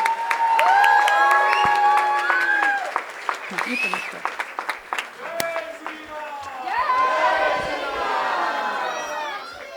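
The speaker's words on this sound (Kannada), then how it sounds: "ಮತ್ತೊಮ್ಮೆ ಜೋರಾದ ಚಪ್ಪಾಳೆ ಬರಲಿ" An audience at a Ramayana stage performance for a Yugadi festival bursts into loud, sustained clapping with cheers and shouts, fading somewhat midway before swelling again toward the end.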